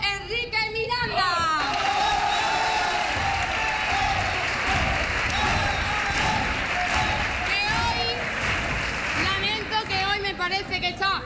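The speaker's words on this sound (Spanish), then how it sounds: "un fuerte aplauso a nuestro colaborador Enrique Miranda." Audience at a youth quartet contest semifinal bursts into sustained applause and cheering, loud and dense across the middle, while a presenter's voice is heard briefly at the start and again near the end.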